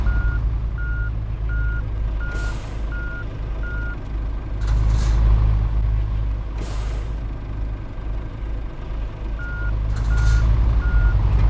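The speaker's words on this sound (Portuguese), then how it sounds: "vamos engatar aqui a carreta" A truck in the Truckers of Europe 3 game backs up to couple a trailer, its reversing alarm beeping in regular runs over a low idling diesel rumble, with sharp hisses of air brakes released several times.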